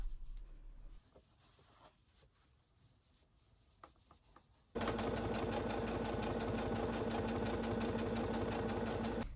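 After a few seconds of near silence, a sewing machine starts running a straight edge on pillow fabric for a custom pet pillow, its rapid, even stitching loud and close until the end.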